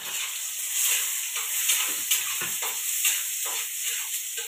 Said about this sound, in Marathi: लसूण लाल झाला, कांदा टाकून घेते.